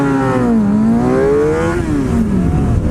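A Suzuki GSX-R 750 motorcycle engine revs loud and close, its pitch climbing, dipping and climbing again in continuous sweeps with no talk over it.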